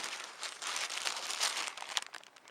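Plastic bags holding camping food, portioned mugshot meals and porridge, crinkle and rustle as they are handled up close in brief, uneven bursts.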